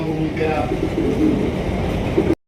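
A pair of Mukhi pigeons coo softly in a few low, rounded calls over a steady background hum, ending abruptly.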